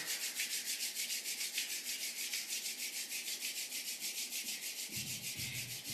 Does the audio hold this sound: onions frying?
no